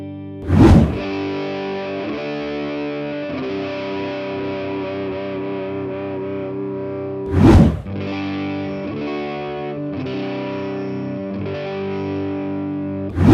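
Heavily distorted electric guitar through a JHS The Violet distortion pedal with mids cut, chords struck sharply about three times and left to ring with a thick, crunchy sustain between hits.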